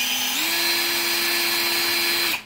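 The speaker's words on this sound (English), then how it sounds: "I'll just stop the drill and let the bubbles go away for a minute." An electric drill spins a degasser stick inside wine, a loud steady whine that rises in pitch as it speeds up, holds, then cuts off at the end.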